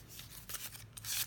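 Scissors snipping through a plastic straw, a few quick crisp cuts close by, with brief rustling between them and no talking.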